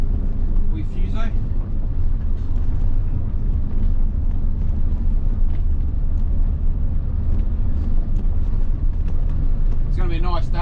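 A 1990 Fuso 24-seater bus with a 7.5-litre diesel engine and five-speed manual transmission drones steadily while driving into town, a continuous low engine rumble with road and wind noise throughout, and a voice speaks briefly over it.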